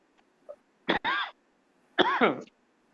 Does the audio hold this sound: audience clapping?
no